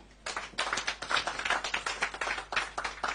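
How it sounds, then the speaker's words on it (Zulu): Audience applause at a music awards ceremony, a dense burst of many hands clapping that starts abruptly and continues loud and steady, with no talk over it. "Shayelani ihlombe National Ingoma Awards."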